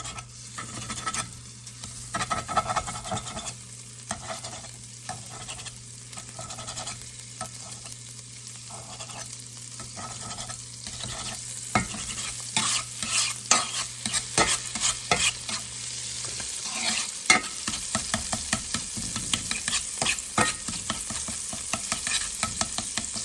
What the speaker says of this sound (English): I'm also gonna add a little butter to that fat, because man, do I like the fat